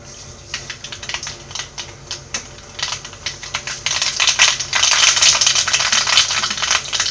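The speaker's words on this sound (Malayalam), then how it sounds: "കടുക് ചേർത്ത് കൊടുക്കുക." Mustard seeds splutter in hot oil in a clay pot for a Kerala fish curry, with sharp irregular pops and crackles that start sparse and build into a dense, steady sizzle, close and without talking.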